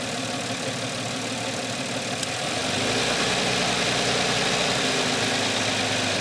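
A car engine idles while its throttle position sensor is adjusted; a steady, loud rumble shifts partway through as the idle speed rises to a fuller, slightly higher drone, with no voices.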